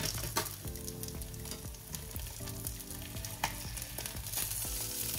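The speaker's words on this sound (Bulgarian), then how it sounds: "вече остават по-малко 2 минути на рибата в тигана" Sea bass fillet frying in a pan over medium heat, a steady close crackling sizzle with scattered pops continuing throughout.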